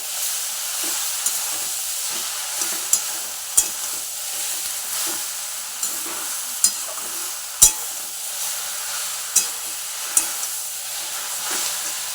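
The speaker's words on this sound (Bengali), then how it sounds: "এবার নেড়ে দিই শাকগুলো" Field greens frying in a pan give a soft continuous sizzle, broken by about ten sharp clicks and scrapes of a utensil as they are stirred, with no talk.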